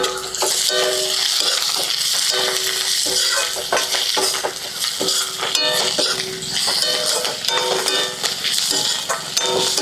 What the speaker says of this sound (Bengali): আদা রসুন কুচি করে রাখছিলাম যে এটা এখন ভালো করে ভেজে নিব